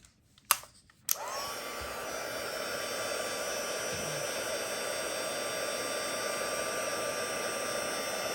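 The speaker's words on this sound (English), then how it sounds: "Now I'm going to emboss." A heat embossing tool blows hot air onto a greeting card, a steady loud whooshing whir that starts with a click and then runs on without a break. Nobody talks over it.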